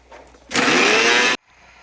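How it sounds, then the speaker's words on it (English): A kitchen grinder whirs loudly through a short burst, grinding rice powder with cardamom seeds. The motor starts abruptly, runs steadily for under a second, then cuts off sharply. "That's why I need to put this cardamom seeds in the rice powder. I'm going to grind it back again."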